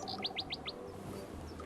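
Small birds give a quick run of four bright, high chirps, faint and somewhat distant over a low background hum.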